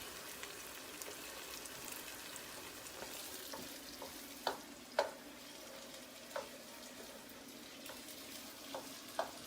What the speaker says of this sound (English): You want to roast your tomato paste so it gives it a beautiful taste.